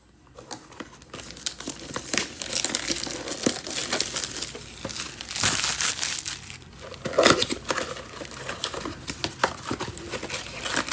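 Optic trading card packs being torn open, their foil wrappers crinkling and crumpling in steady close bursts of rustling, with sharper tearing accents throughout.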